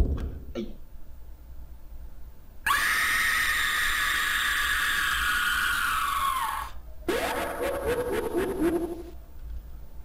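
A shrill, piercing screech from the Sonic.exe video game blares for several seconds and bends downward, then a rougher, noisy burst of screeching follows after a short break.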